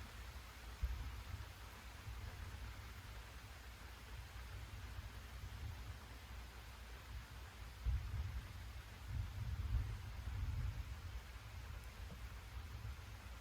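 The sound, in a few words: rain falling, afternoon thunderstorm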